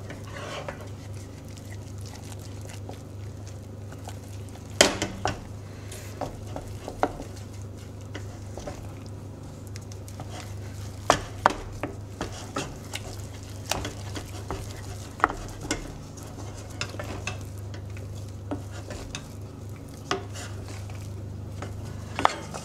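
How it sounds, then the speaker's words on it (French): A utensil vigorously stirs and scrapes thick choux pastry dough in a saucepan, with irregular knocks and taps against the sides over a steady low hum. "je mélange énergiquement pour avoir quelque chose d'homogène et former une pâte dans"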